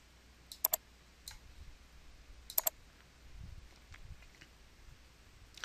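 Computer mouse clicks while working in an Excel spreadsheet, a few sharp separate taps, some in quick pairs, over quiet room hiss.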